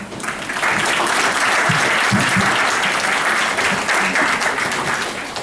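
Sustained applause from a conference audience welcoming professor Luis Guillermo Núñez to speak at an international digital repositories conference, dense steady clapping that swells in and holds for several seconds before tapering.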